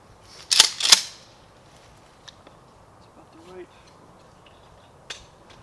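A Remington 870 home-defense shotgun fitted with a recoil-reducing Kicklite stock fires a 3-inch number 5 shell: two loud, sharp blasts come close together near the start, then fade to quiet with only faint small clicks.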